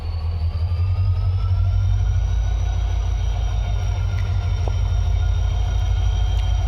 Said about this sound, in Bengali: এই ট্রেনের নাম হইল দুলুপছড়া টু শিলচার এক্সপ্রেস ট্রেন।